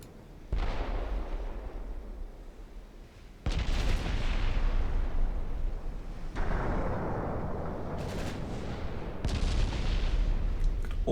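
Incoming gunfire and artillery in a World War II-era US campaign war game, heavy booming blasts arriving every few seconds, each followed by a long rumbling, crackling tail of fire under sustained battle noise.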